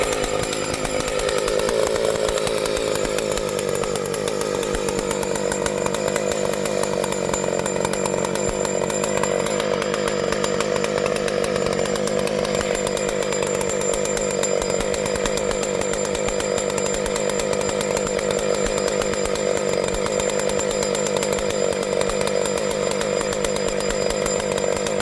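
A 1970s Mac 125 chainsaw runs continuously at high revs, a loud, steady buzzing whine held throughout with little variation, close to the listener and with no talking.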